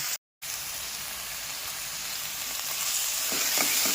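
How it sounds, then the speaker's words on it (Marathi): Spice paste (vatan) frying in a pan for Nagpuri tarri pohe, a steady close sizzle that briefly drops out near the start, then continues and grows slightly denser and louder toward the end. "हे वाटण आपल्याला चांगलं परतून घ्यायचं."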